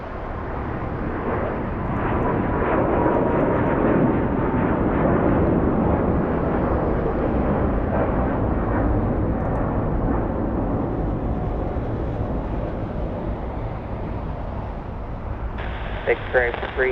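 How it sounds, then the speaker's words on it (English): Jet airliners, including a Lufthansa Airbus A350 and a Boeing 777-300ER, land and depart at LAX in Los Angeles, a loud sustained engine roar swelling and fading, with a voice talking over it and clipped radio chatter near the end. "Lufthansa 452, not an Airbus A380 today, it's an A350 going south"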